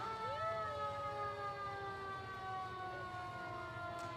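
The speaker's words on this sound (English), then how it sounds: "How about that big Fort Worth welcome to downtown engine truck number 1." A Fort Worth fire engine ladder truck sounds a steady wailing siren as it rolls through a downtown holiday parade of lights, loud and sustained with a rising sweep at the start over low engine rumble.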